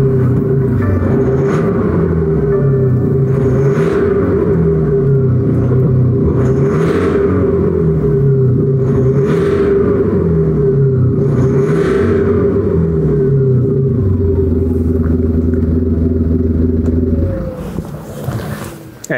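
BMW 320 GT engine revving repeatedly in a steady rhythm of about eight rising and falling pulls over a constant idle drone, loud and close, then dropping off abruptly at the end.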